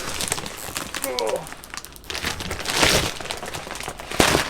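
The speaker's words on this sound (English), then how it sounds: "Sorry, I'm rustling about here, you probably can't hear me." Packaging for a Zhiyun Weebill S gimbal rustles and crinkles up close during unboxing, in irregular bursts with louder crackles toward the end; a voice talks over part of it.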